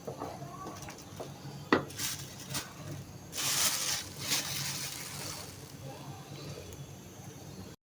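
A jaggery mixture for pitha is stirred in a pan, giving soft, irregular scrapes and knocks of a spoon against the metal over a low, quiet background.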